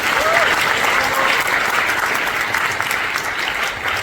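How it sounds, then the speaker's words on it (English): A crowd at a book launch and author discussion applauds loudly and continuously, a thick, steady roar of clapping hands from a large gathering with murmured voices mixed in. "You can have a loud round of applause for him."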